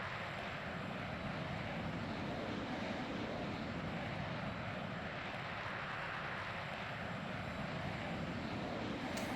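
A MiG-15 jet engine in Microsoft Flight Simulator roars as a steady, unbroken broadband drone, holding an even level with no pauses for the whole stretch.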